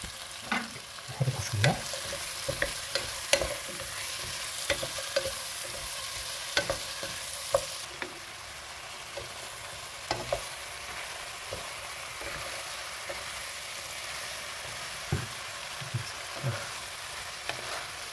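White fish and potatoes cooking in a pot for fish soup, giving a quiet, steady sizzle with scattered clinks and stirring knocks throughout.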